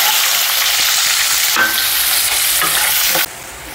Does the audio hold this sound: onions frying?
yes